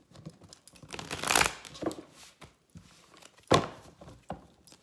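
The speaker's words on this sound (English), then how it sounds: "And more shuffle." A deck of tarot cards is shuffled in short, crisp riffling bursts of papery flutter and snapping, with quiet gaps between them, heard up close and fairly soft.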